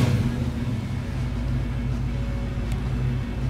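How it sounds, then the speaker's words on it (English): A 1969 Chevrolet Camaro SS 350 V8 convertible with a four-speed settles into a steady, smooth idle right after firing up, a close, continuous low rumble with no talk over it. "I love when a car fires up like that"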